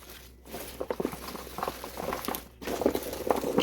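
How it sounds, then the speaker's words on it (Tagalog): Sliced onions are tossed by hand in kimchi sauce, producing soft, wet squelching and patter in quick irregular bursts, quiet and close, with a couple of brief pauses. "Halo ng halo hanggang sa maabsorb ang sauce sa ating sibuyas."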